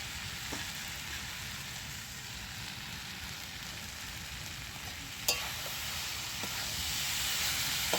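Sesame seeds go into a cooked-down coconut mixture for naru, giving a soft, even frying hiss with one sharp scrape partway through and a slight swell toward the end.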